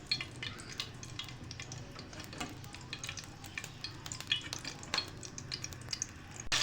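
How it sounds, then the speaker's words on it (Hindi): Green chillies frying in hot oil with asafoetida for a chana dal and potato curry: a close, continuous crackling sizzle with frequent scraping stirs and sharp spits throughout. "हरी मिर्चों को हमने इसमें फ्राई कर लेना है।"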